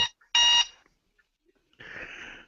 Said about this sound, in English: That is a very loud timer.